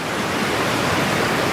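Water flows over river rocks at a Washington rockhounding spot, making a steady rushing wash that stays loud and even throughout.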